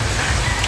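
Light but steady rain falling continuously, a dense even hiss of drops on surfaces with no pauses, close and fairly loud.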